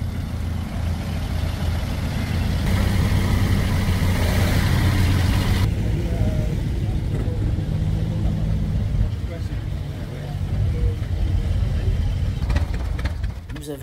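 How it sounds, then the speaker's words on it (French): Several vintage vehicles, among them a 1913 Renault type DM Tourer, start up one after another at a Brittany classic car rally, their engines idling and revving steadily beneath continuous crowd talk. "Le véhicule commence à démarrer les uns après les autres."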